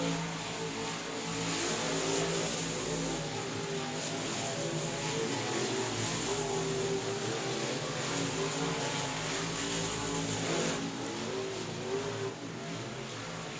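Race cars lapping a dirt speedway during a heat race, a distant, steady engine drone with rising and falling passes blending into a continuous roar.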